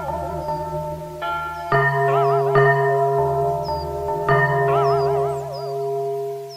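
Three church bells ringing together in a village, their overlapping tolls striking at staggered intervals and ringing out with long wavering hums, clear and fairly close, with no voices.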